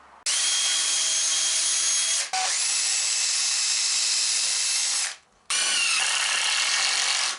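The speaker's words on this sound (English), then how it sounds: "Now I'm going to put 2 pilot holes through this piece of wood here, and I'm going to drive 2 screws through this shelf into each post" A power drill bores pilot holes and drives screws into wood shelving: three loud, sustained high-pitched whirring bursts, close by, separated by brief pauses.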